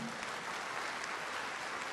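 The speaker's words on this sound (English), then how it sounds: "Let's please give our panelists a big round of applause for their time." Dense, steady clapping from a convention panel audience, a full wash of applause sustained throughout without a break.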